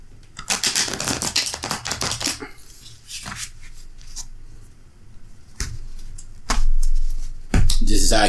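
Brisk riffling and flicking of tarot cards in quick bursts, close up, with pauses and a couple of louder thumps near the end.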